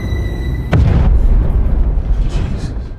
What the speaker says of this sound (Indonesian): ledakan itu membuat semua orang panik ketakutan dan berhamburan keluar gedung